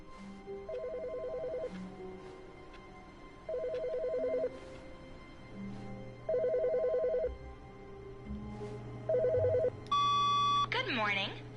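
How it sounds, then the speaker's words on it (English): A telephone ringing in the video game The Stanley Parable, four evenly spaced electronic ring bursts repeating about every few seconds, followed by a short rising tone sequence at the end, with low background hum and no talk. "I hear a phone."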